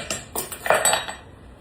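A spoon clinking against a bowl while stirring the wet ingredients for zucchini bread, a few quick close metallic taps that fade out after about a second.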